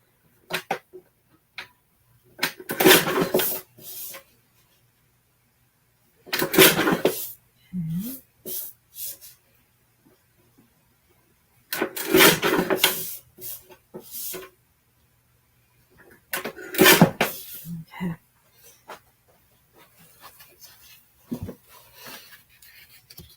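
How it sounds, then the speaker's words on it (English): Paper card base trimmed on a paper trimmer for a Daisy Daydream Paper Pumpkin card, several separate bursts of crisp sliding, scraping cuts with quiet gaps between them, close and fairly clear. "I am going to have to go trim up my base just a little bit more"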